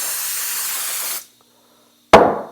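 Cleaner sprays onto the fuel inlet of an Edelbrock carburetor in a steady loud hiss lasting over a second, then a pause, then a second sharp burst that fades quickly.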